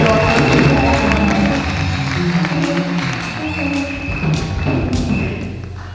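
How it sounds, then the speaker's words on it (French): A church congregation applauds, a steady, dense mass of clapping that fills the room and holds for several seconds, with voices and music murmuring underneath. "Applaudissements."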